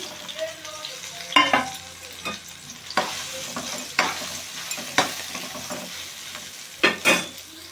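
Soya chunks fry in hot oil in a kadai, giving a steady sizzle broken by sharp scraping and clinking of a spoon stirring against the pan every second or so.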